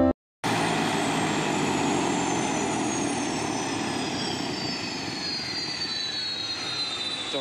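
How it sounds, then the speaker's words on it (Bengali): A small airplane taxis slowly into a parking spot at an airport, its engine a loud, steady droning whine with a high tone sliding gently downward, close by and continuous after a brief silent start. "দেখতে পাচ্ছেন আমাদের ছোট্ট বিমানটি চলে আসছে এবং এটা ধীরে ধীরে পার্কিং করছে"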